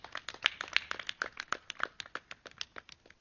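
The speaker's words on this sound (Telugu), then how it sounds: "ఆ తల్లులందరికీ గట్టిగా క్లాప్స్ కొడదాం" An audience claps for the mothers at a rural meditation gathering, a steady run of sharp, individual handclaps close by with no talk over them.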